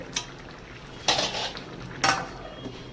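A lid placed over a pot of cooking lentils, a few sharp metallic clanks and scrapes, one early tap and two louder clatters about a second apart, near and without talk.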